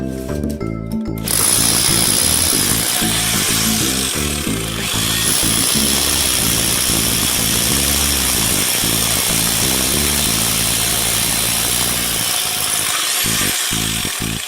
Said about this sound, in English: we're currently drilling holes down here at the bottom where the footing is